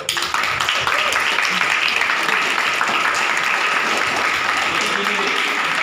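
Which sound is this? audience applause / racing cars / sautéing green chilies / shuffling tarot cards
audience applause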